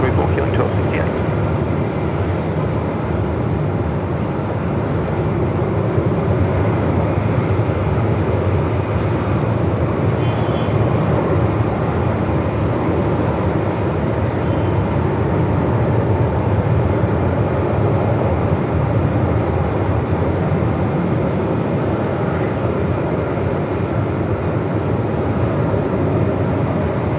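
An airliner lands at Melbourne Airport in 45-knot winds, its reverse thrust a steady, loud broadband roar with wind rumble that holds throughout, and voices heard faintly underneath.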